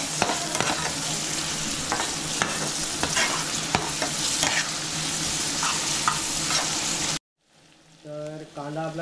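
Chopped onion sizzles and fries in a pan, stirred with repeated scraping clicks for about seven seconds, then cuts to near silence with a faint voice.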